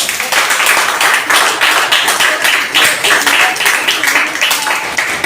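An audience at an investment company event clapping for the scientists, a loud, busy stretch of many hands applauding with a slightly choppy, pulsing texture throughout.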